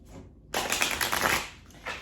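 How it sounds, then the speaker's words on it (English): A deck of cards is riffled in one quick, crisp burst of about a second, then a short soft flutter, close and clear against a quiet room. "I'm going to shuffle these cards."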